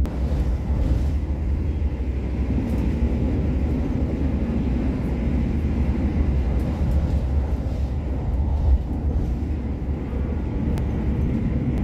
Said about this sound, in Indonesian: Kereta api Argo Bromo Anggrek melintas langsung stasiun Karawang